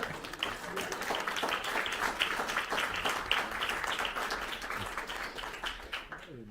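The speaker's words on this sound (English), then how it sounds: "There's a clap there." An audience at a conference on Ukraine's freedom claps in a dense, steady patter of many hands, moderately loud and fairly even, tapering off in the final moment.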